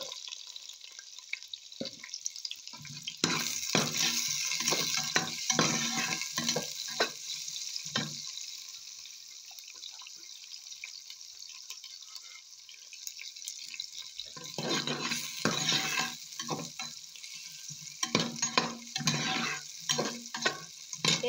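Garlic, onions, tomatoes and ginger frying in oil already used for frying fish, sizzling in bursts with spatula stirring and scraping, louder early and late with a quieter stretch in the middle.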